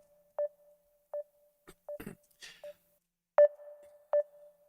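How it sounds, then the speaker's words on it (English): An outgoing call rings on an online call as a short electronic tone repeats about every three-quarters of a second, clear and alone against silence, with a brief burst of rustling noise partway through. "you can hear it ringing"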